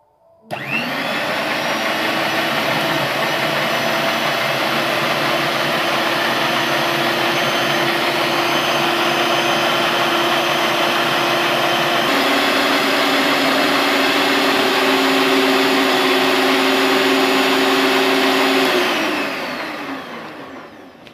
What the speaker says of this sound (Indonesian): Kemudian kita mixer kembali